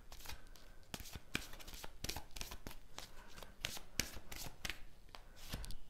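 Tarot cards being shuffled and drawn for a reading, heard as a close series of crisp riffling slaps and flicks at an uneven rhythm, with no talking over them.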